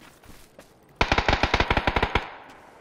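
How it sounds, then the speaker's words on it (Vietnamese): In the video game PUBG, an AUG rifle fires a rapid automatic burst of about fourteen sharp cracks over roughly a second, fairly near, followed by a short fading tail. "Tiếng đó là tiếng của AUG."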